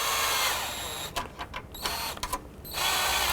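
Bolts on a 2006-2012 Honda Civic engine being snugged down during knock sensor replacement, a whirring power tool running in short bursts with brief pauses between, loud and close.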